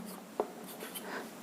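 Writing on a board, a sharp tap of the marker followed by soft, faint scratchy strokes over quiet room tone.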